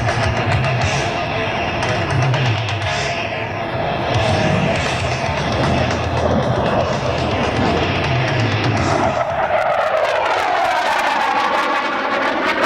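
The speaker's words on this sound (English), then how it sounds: "here comes the German Air Force Tornado from the right to the left" A German Air Force Tornado fighter jet flies past an airfield at an aerobatic display, right to left, as a loud, continuous engine roar that swells and then fades with a falling whoosh, over faint crowd noise.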